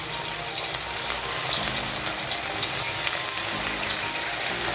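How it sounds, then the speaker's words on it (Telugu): Idli pieces deep frying in hot oil give a steady, dense sizzle and crackle that fills the whole clip at close range, with no talking over it. "ఆయిల్ వేడైందండి ఇప్పుడు మనం ఇడ్లీని ఫ్రై చేసుకుందాం"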